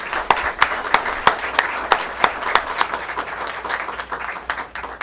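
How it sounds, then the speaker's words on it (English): A small audience claps for the artists at a community center event, with a few distinct, sharp near claps cutting through a softer bed of steady applause that thins out toward the end. "let's give them a round of applause"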